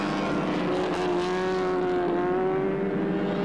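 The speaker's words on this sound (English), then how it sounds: "There's Drake going through there in the Lotus." A post-war Lotus racing car runs at Silverstone, its engine a loud, sustained, slightly rising drone close by, steady throughout with no commentary over it.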